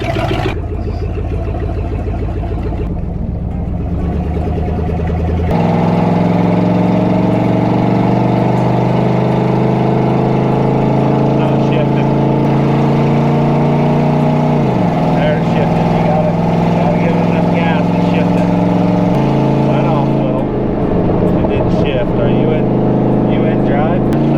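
A project vehicle's engine runs steadily while driving and shifts pitch a few times. It drones loudly and continuously, with talking throughout.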